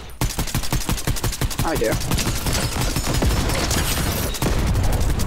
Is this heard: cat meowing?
no